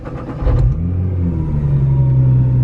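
A Nissan R35 GT-R engine cranks and fires up after a push-button start, with a sharp rev flare followed by a steady, loud, deep idle rumble close by.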